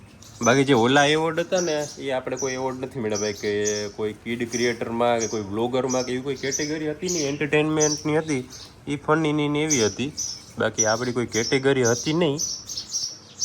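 Sparrows chirp in quick, faint bursts, scattered throughout while someone talks steadily over them in the foreground.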